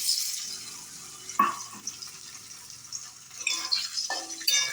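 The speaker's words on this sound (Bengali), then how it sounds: "ছোটো ছোটো করে আলু কেটে নিয়ে আমি সেটাকে ভেজে নিচ্ছি" Small pieces of potato fry in oil in a wok for a fig curry, giving a steady soft sizzle with a few louder scrapes and clinks of a utensil stirring.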